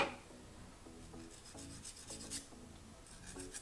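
A hand file rasps back and forth across the ends of a piston ring for an engine shortblock, quiet rhythmic scraping strokes repeating close by.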